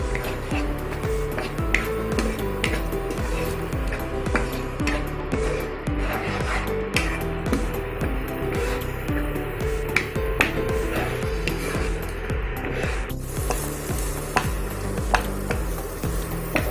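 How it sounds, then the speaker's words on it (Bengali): Masala spice paste for egg korma is stir-fried in a pan, with a steady sizzle under repeated scraping and clacking of a spoon against the pan. The sound is close, continuous and even, with no talking. "এখন আমি মশলাটা ভালো করে কষিয়ে নেব।"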